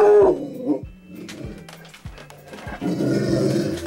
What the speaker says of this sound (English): Why are you growling at?